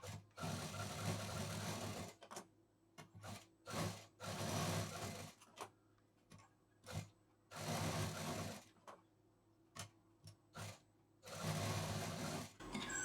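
A sewing machine stitches a narrow folded hem around the edges of a cloth piece for a handmade bag, running in repeated bursts of a few seconds with short pauses between them, close and clear with no talking.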